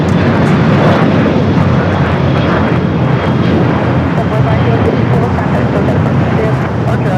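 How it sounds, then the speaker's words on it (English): A one-year-old Boeing 787-9 Dreamliner roars steadily at LAX airport, its loud, broad jet-engine rumble unbroken throughout, with talking underneath. "787-9 Dreamliner, just a year old for this aircraft."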